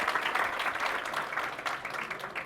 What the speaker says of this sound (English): Can we please have a round of applause for Yashan?